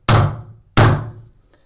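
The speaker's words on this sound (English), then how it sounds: "you want to tap that with a hammer because you want it to grip it" Two sharp metallic hammer taps on a bathtub drain, spaced about two-thirds of a second apart, each ringing briefly before fading, loud and close with no talking.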